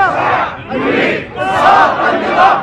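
Protest crowd near a mosque chanting slogans in unison, loud rhythmic massed voices rising and falling in repeated phrases, close and continuous.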